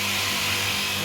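A morticer drills holes for a floating shelf bracket, giving a brief steady, loud whirring machine drone with no pauses.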